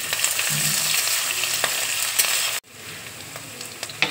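Garlic and asafoetida sizzling in hot oil alongside chopped onion, a steady close sizzle with light stirring clicks and a sudden drop in level partway through, no talking.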